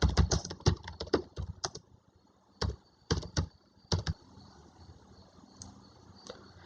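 Quick bursts of keystrokes on a computer keyboard, clustered taps close to the microphone separated by short pauses, then quieter with a few isolated clicks.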